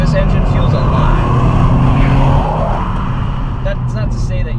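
A Honda Civic Type R engine revs from inside the car, a rising, strained tone swelling and then easing off, with someone talking over it.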